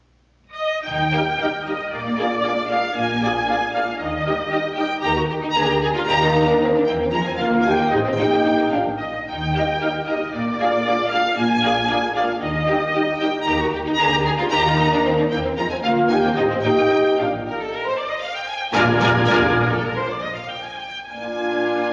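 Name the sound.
Beethoven's perky contour dance tune, an Englische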